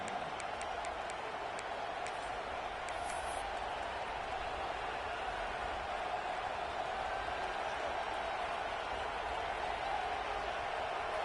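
A football stadium crowd roars steadily in the late first half before a field goal attempt, a dense distant wash of cheering and noise that holds at an even level throughout.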